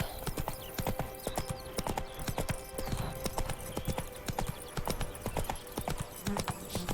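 Horse hooves clopping at a steady walking rhythm in The Witcher 3, loud and close, with dense repeated hoofbeats throughout and a faint musical drone behind.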